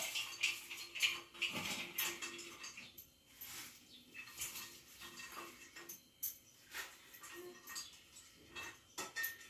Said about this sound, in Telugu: క్యాబేజ్ని ఇలా సన్నని ముక్కలుగా కోసుకోవాలి